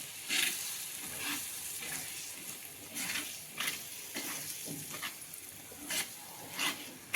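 Gram flour filling is stirred into onions frying on a tawa, with a steady background sizzle broken by repeated scraping strokes of a spatula against the pan at an irregular rhythm, close and moderately loud.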